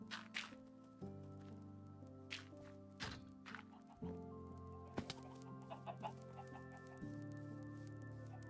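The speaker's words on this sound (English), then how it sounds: "See if we could get all these chickens in there." Minecraft chickens cluck in short, evenly spaced bursts over steady background game music, quiet and close.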